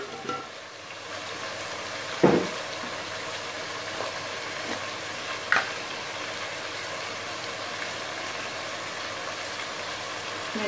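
Whole cumin seeds sizzle in hot oil while pulao is being prepared: a faint, steady frying hiss throughout, with two brief clicks.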